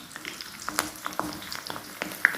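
Onion and curry leaves sizzle as they drop into hot oil for a homemade hair oil, a soft steady fry crackle broken by scattered sharp pops.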